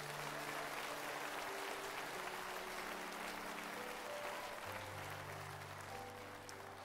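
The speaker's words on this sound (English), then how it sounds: "give God a hand clap of praise" A Baptist church congregation clapping in praise during a revival Sunday service, steady, moderately distant applause over sustained organ chords.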